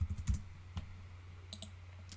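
Soft, sparse keystrokes on a computer keyboard while typing LaTeX code, a few quiet clicks in a small cluster, then a brief pause and more taps over a low room hum.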